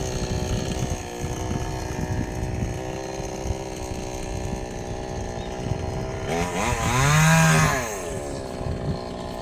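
A chainsaw prunes tree branches with a continuous buzzing engine drone that stays close and loud, then revs up higher in a strong surge before settling back.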